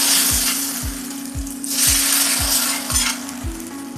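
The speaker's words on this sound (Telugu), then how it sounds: "ఇప్పుడు సాంబార్ వేసేస్తాం." Sambar poured into a sizzling tempering in a pan for Chennai-style sambar, giving a loud, steady frying hiss with regular soft knocks under it and no talk.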